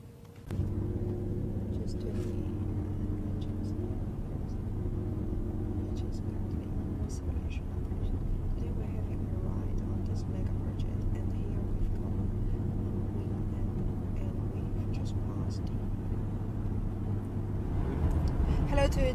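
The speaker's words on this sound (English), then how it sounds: "Today we are having a ride on the Hong Kong-Zhuhai-Macau Bridge, the longest man-made sea crossing in the world" Steady low road rumble and engine drone from a car cruising across the Hong Kong-Zhuhai-Macau Bridge, the long sea crossing, continuous and fairly loud inside the cabin with a faint murmur of voices underneath.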